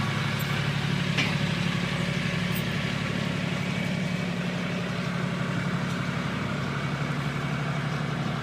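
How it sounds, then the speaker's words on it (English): A noisy tractor goes by outdoors as a steady, loud low engine drone that holds for several seconds with little change, and no voices are heard. "the chariot is going by with the noisy tractor"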